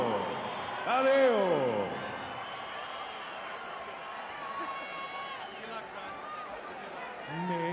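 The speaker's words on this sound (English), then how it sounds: "Ladies and gentlemen, a round of applause for Mario" A crowd at a boxing event cheers and applauds for a singer about to perform the Mexican national anthem, a loud swell of whoops and clapping with an announcer's amplified voice over the top.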